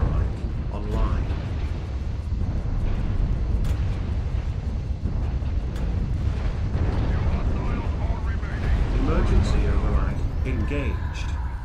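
Airstrike explosions in the mech combat video game MechWarrior Online, heard as a dense, continuous wall of booming blasts and rumble that stays loud throughout with no pause.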